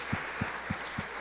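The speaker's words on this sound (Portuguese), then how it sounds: "Vamos aplaudir a Jesus por isso," Congregation in a church clapping for Jesus, heard as a few faint, evenly spaced claps over a quiet room hum rather than full applause.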